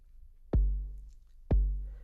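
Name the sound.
808-like kick drum sample playing in Cubasis 3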